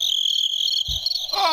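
An Associated Press recording carries a continuous high, shrill chirring insect chorus like crickets, steady and fairly loud, with a brief low thump midway.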